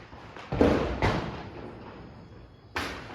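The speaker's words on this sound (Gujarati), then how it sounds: "ભાઈ ફટાકડો તો ફૂટે જો" Diwali firecrackers burst in a village: two sharp thuds close together, then a third after a pause, each a quick bang with a short rumbling tail over steady background noise.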